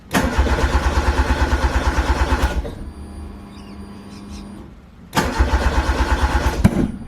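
A Toyota AE86 engine fitted with a Yaris coil conversion cranks in rapid rhythmic bursts with popping from the intake, two loud close cranking sessions separated by a quieter pause.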